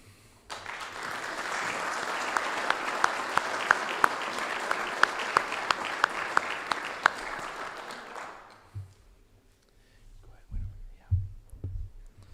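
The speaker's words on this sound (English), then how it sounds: "please give a round of applause for each player" Sustained round of applause from an audience at an athletic Hall of Fame induction ceremony, lasting about eight seconds before fading into a quieter room with a few soft bumps.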